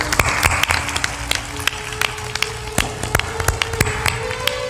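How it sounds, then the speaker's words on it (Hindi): A gathering at a spiritual discourse claps to welcome an arriving guest, scattered sharp hand claps over a steady murmur of the crowd, moderately loud and uneven in rhythm. "ताली बजा दो, कोई अतिथि आए।"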